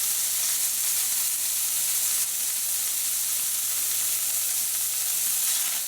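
Vegetables and mince frying together in a pan, with softened onion and carrot tipped into browning meat. A steady, even sizzle with a low hum underneath runs close and constant for the full six seconds, and nobody speaks.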